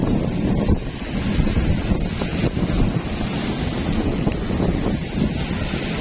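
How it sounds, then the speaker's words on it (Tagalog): Wind buffets the microphone without letup at the shore of Manila Bay, with seawater washing and surging underneath in a loud, steady roar and no voices. "ang ating dagat sa may Manila Bay"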